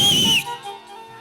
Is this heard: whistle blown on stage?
yes